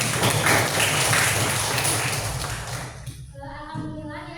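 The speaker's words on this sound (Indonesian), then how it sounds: "Ya, tepuk tangan untuk Hasna." Students in a classroom clap for a classmate, a brief burst of mixed clapping and thumps that fades out after about three seconds, followed by a short tonal sound.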